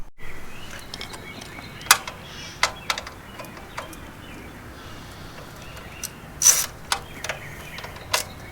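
Two 10mm bolts being loosened on a 1974 Vespa Piaggio Ciao moped, with scattered close ratchet clicks and sharp metallic taps spaced irregularly over faint background hiss.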